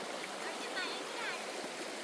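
A river in Attappadi flows around someone wading through its middle, a soft, steady rushing and hissing of water that stays fairly faint and even throughout.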